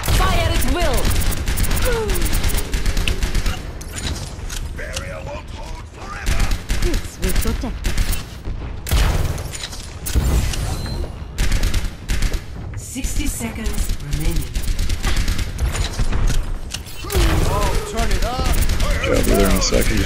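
Sustained, dense gunfire and combat noise in the team shooter Overwatch, loud and continuous with rapid shots, impacts and effects, and game voices speaking throughout.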